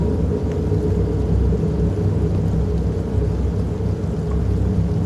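Steady rain with low, rolling thunder in the horror video game Fears to Fathom: Carson House, a dense, constant downpour with a deep rumble, loud and unbroken, with no voices.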